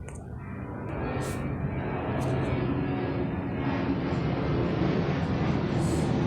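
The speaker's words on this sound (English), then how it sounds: "You could hear the airplane coming" An airplane flies overhead, its broad roaring whoosh swelling from faint to steadily louder as it approaches, with no talk over it.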